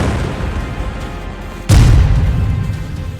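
A bomb blast in war footage from the Israel–Hezbollah conflict, a sudden loud, deep boom partway through that leaves a heavy rumbling roar, above steady background noise.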